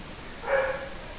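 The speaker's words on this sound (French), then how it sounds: "mon chien gueule, je sais pas si vous l'entendez" A dog barks once in a short bark from another room, muffled and moderately loud against a quiet background. No one talks over it.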